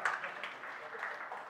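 Conference audience applause at SymfonyLive Berlin 2018, a faint, distant patter of many hands clapping steadily for a moment and a half.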